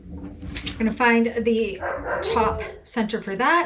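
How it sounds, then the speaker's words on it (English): Dogs bark and yip repeatedly during an indoor sewing class, their calls mixed in with someone talking. "Sorry for the barking dogs."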